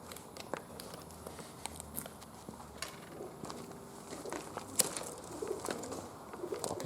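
Pigeons shuffle and scrape across the metal roof of an abandoned factory at night, with faint scattered taps, light footsteps and soft cooing at a distance over a quiet background.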